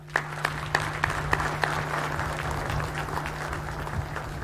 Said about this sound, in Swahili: Tuwape makofi tafadhali.